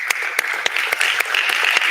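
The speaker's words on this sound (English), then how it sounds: "A big applause" An academic conference audience claps after a research debate, a short burst of moderately dense applause with distinct sharp claps close by, no talking over it.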